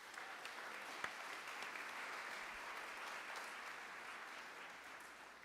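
Sustained applause from a large crowd at a senior awards ceremony, a dense even wash of clapping that holds steady and fades slightly at the end.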